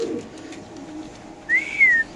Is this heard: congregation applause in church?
no